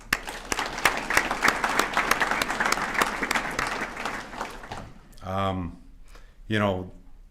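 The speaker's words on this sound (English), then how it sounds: "I want to just give you guys a round of applause for doing that." Warm audience applause for scholar-athletes at a university awards ceremony, steady clapping for about five seconds, then two short spoken phrases after it stops.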